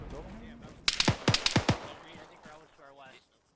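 Burst of rapid gunfire in the ArmA 3 military video game, several sharp loud shots in quick succession with echoing tails, and a voice faintly present before and after.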